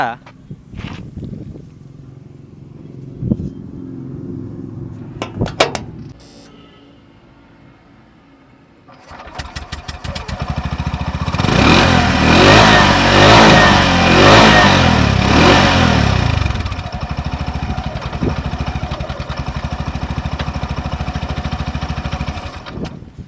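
A person talks briefly before a Bajaj auto rickshaw engine cranks and fires up, revs loudly for a few seconds, then settles into a steady idle close by.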